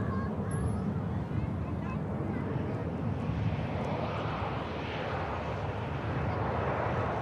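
An EasyJet airliner climbs away after takeoff, a steady broad jet roar with wind noise that holds at an even level for the whole stretch, no voices over it.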